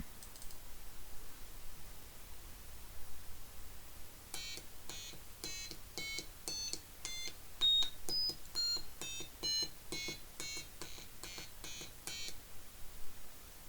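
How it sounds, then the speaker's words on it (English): A string of short, high electronic beeps in quick succession as buttons are pressed on an electronics kit, some with different pitches, over a faint background hiss; no talking. "when I press the buttons, I get a lot of beeps and boops."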